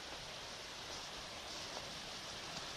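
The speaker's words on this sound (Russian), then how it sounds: "Тут река рядом шумит." Steady, broadband rushing of a river flowing close by near the Chulyshman, a continuous wash with no breaks or voices.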